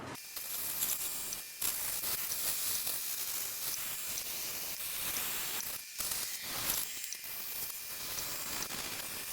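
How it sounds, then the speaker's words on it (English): Iwata HP-CS airbrush spraying MRP fine surface primer at about 15 PSI, a steady close airy hiss running almost continuously with a few brief pauses between bursts. "I'm going to be using my Iwata HPCS, shooting at about, looks like 15 PSI, using, like I said, MRP fine surface primer"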